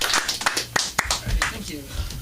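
An audience at an LA comedy school show claps for Michael, editor-in-chief of a cast iron magazine, in a short burst of close, uneven hand claps mixed with voices.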